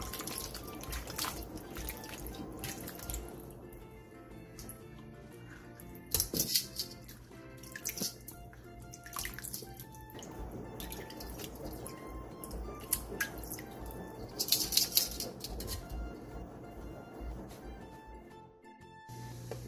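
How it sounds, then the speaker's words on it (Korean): Cold water runs and splashes as salted cucumber and radish are lightly rinsed, a steady close trickle with intermittent drips and a few sharper splashes from handling the vegetables. "다 절여진 오이와 무는 찬물에 가볍게 헹궈내주세요."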